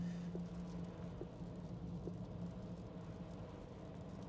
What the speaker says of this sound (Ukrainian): Шумоізоляція непогана. Шумить як електричка і як здоровенний просто пікап.